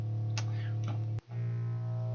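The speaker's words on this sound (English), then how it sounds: "I've got guitar rig on here to give it some distortion and compressed the heck out of it." A sustained, heavily distorted and compressed bass guitar tone drones steadily in a future bass drop, with a few brief effect swells and a short dropout partway through.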